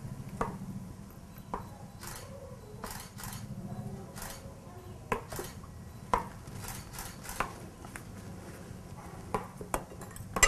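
Batter for a bolu kemojo cake being mixed with melted butter and vanilla in a bowl, scraping swishes broken by a series of sharp, scattered clinks of utensil on the bowl, moderately close.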